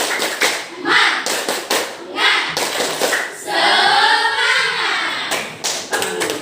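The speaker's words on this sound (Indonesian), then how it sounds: "Kita lakukan tepuk semangat dulu ya." A class of schoolchildren performs a rhythmic spirit clap, tepuk semangat, in bursts of quick, loud hand claps and taps with chanted voices between them, close and energetic.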